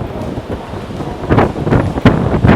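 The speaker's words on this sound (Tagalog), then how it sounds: "Ang lakas ng hangin." Strong cold wind buffets a microphone outdoors in Japan, a steady low roar with louder gusts building in the second half and no talk.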